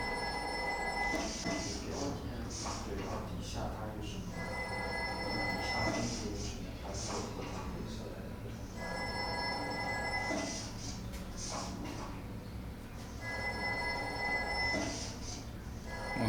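Telephone bells ring in repeated bursts inside a recreated WWII underground bunker command room, part of a background soundscape layered over a low, steady rumble.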